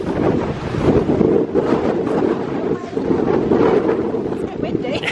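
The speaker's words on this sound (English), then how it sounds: "It has got awfully windy all of a sudden, hasn't it?" Gusty wind buffets the microphone outdoors at Beamish Museum in loud, rumbling bursts that swell and ease, with a person talking underneath.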